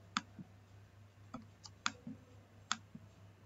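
A computer mouse clicks sharply several times at irregular intervals over a faint steady hum, with each click close and distinct and one pair coming as a quick double click.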